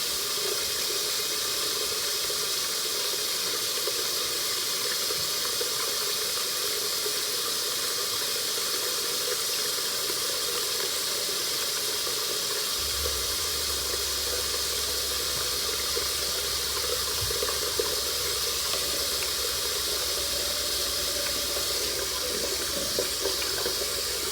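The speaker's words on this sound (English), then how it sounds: "I'm gonna wash my hands." Hands being washed with soap under a running tap, a steady broadband water hiss that lasts throughout, joined partway by a low constant hum, with no voices.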